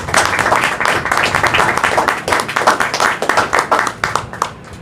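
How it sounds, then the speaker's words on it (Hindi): A church congregation at an Urdu sermon breaks into loud, sustained applause, a dense rapid patter of many hands clapping continuously throughout without speech. "खुदा के जलाल के लिए जोरदार तालियां दें।"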